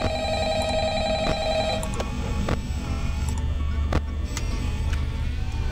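Telephone ringing in the video game Five Nights at Freddy's: a bright electronic ring that sounds for the first couple of seconds and then stops, followed by a low rumbling hum with scattered clicks and no speech.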